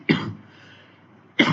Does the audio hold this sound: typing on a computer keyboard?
no